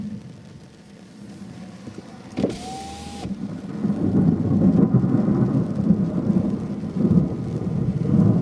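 A loud rumble of thunder from a storm directly overhead builds and rolls on for several seconds over steady rain, with a brief high electronic whine near the start.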